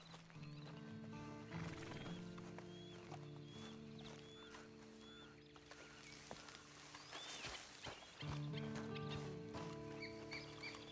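Horse in the Red Dead Online video game whinnying and neighing with clip-clop hooves, amid ducks quacking, birdsong and steady ambient game music, all fairly loud and continuous.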